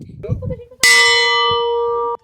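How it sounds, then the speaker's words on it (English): A wishing bell rung in Alcântara gives one bright metallic strike that rings out with a long, steady sustain, loud and close, after a moment of quiet talk. "If you wanna make a wishes, you have to play 3 times the bell"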